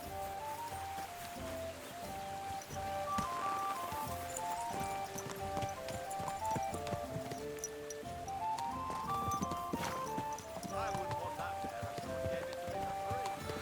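A horse gallops in the video game Kingdom Come: Deliverance II with a steady rhythmic clip-clop of hooves under continuous music, and someone talks over it.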